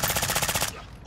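Rapid machine gun fire in a multiplayer military shooter game's ground war mode, a steady close burst of regularly spaced shots that stops abruptly, leaving a brief quieter tail.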